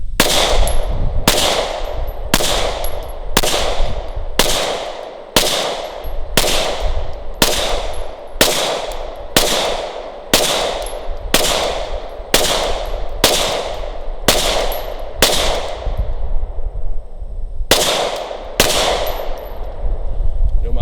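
A Glock 17 Gen 5 pistol fired at a range, held canted sideways: a long, steady string of loud, sharp shots at an even pace, nearly twenty in all, with a brief pause near the end.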